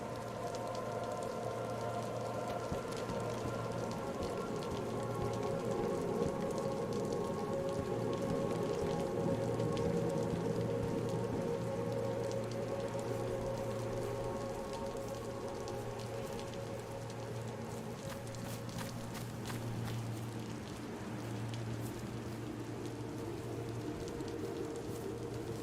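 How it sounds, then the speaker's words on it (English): Steady rain falls in the video game DayZ, a dense continuous hiss with a low hum beneath it that holds evenly for the whole stretch, with no voices. "With sound of the rain."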